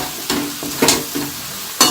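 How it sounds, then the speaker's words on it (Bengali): Fried vegetables being stirred and sautéed with spices in a pan for navratan korma, a low sizzle underneath with three or four sharp scraping strokes of a spoon against the pan. "ঢেলে দিয়ে এবার আমি একটু কষাতে থাকবো"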